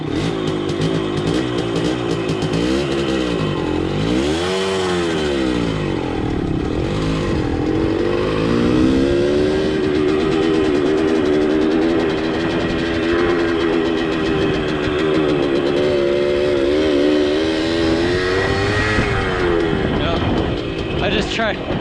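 A Bridgestone TMX 100 motorcycle engine runs in first gear on its first start, its pitch rising and falling with wavering revs, loud and close, while someone talks over it.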